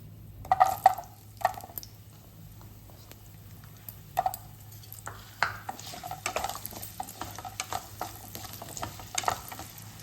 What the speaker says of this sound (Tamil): நல்லா வதங்கட்டும். வெங்காயம் கொஞ்சம் வதங்கிட்டு பாருங்க.